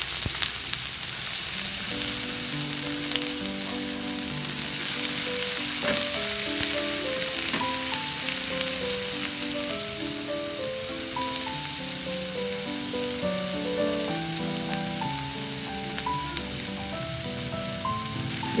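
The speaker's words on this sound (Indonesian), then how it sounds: "Tumis bawang putih, bawang merah, bawang bombay." Garlic, shallots and onion sautéing in frying oil in a pan, a steady continuous sizzle throughout with gentle stirring, under soft background music.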